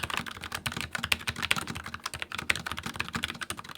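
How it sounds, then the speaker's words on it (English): A Logitech MX Mechanical Mini keyboard with linear red switches is typed on steadily, giving a close, rapid run of soft, even key clacks without a sharp click and with no voices. "The linear red switches have no bump, so the key presses straight down with no feedback, and it also gives you a quieter clicking sound than the clicky blue."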